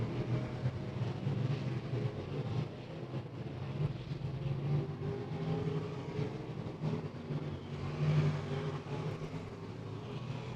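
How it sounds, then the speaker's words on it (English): Race cars lapping the Beckley Motor Speedway oval during Cowboy Classic hot laps, a steady loud drone of engines that swells as a pack sweeps the front stretch, with no voices over it. "A whole gaggle of cars on the front stretch."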